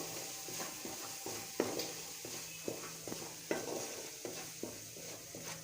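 Spiced masala with dry coriander, red chilli and turmeric sizzles and fries in a karahi, stirred with a spoon in a steady series of scraping strokes over a constant hiss.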